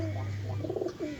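A pigeon coos close by in a few soft, low, throaty rolling notes over a steady background hum, with no talk.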